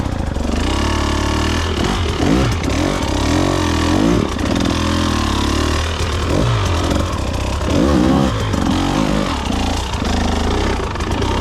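A 2024 KTM 300 XC-W two-stroke dirt bike engine lugging slowly uphill, a loud, close, rough low-rpm burble that rises and falls in uneven surges as the throttle is worked, with no talk.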